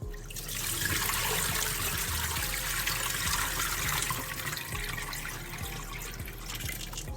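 Water pours and trickles steadily as red peas are rinsed in a second washing, a close, continuous splashing flow with small drips and no talk.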